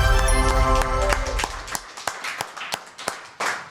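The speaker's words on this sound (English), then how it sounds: "Let's clap it up." A live audience claps in scattered, uneven single claps that trail off after a noisy opening.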